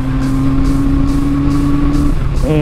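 A Honda CB350F motorcycle engine runs steadily while riding, after cam chain tensioner and carburetor pilot screw adjustments, giving a continuous droning hum with a brief shift in pitch near the end. No one talks.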